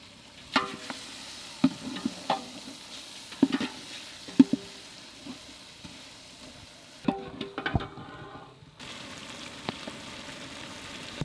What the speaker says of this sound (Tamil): தக்காளிலாம் இப்போ நல்லா வதங்கிடுச்சு. இப்போ காடையை போடுவோம்.